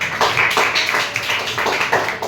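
A small audience at a motivational talk claps in quick, uneven bursts, a near, lively patter of hands lasting a couple of seconds.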